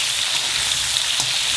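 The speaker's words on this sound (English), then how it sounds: "keep the gas on high and just fry this for 5 minutes" Potato and aubergine frying in a pan over high gas, a steady, dense sizzle with crackling spits that holds at an even level throughout, with no voices.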